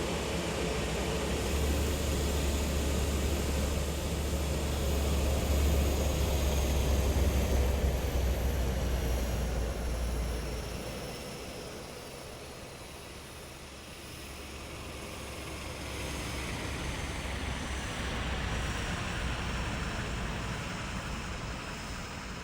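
Simulated engine noise of an F406 Caravan II twin turboprop in MSFS 2024 during shutdown: a steady low propeller drone and airy whine hold for about ten seconds, then the low rumble drops away, leaving a softer broadband hiss that swells slightly again.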